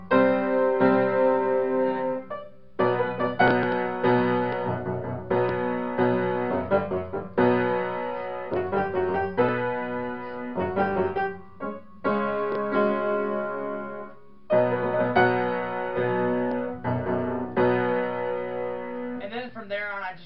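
Piano chords of a wrestling theme are played in clear rhythmic phrases, with several short pauses between repeated chord groups and no talking.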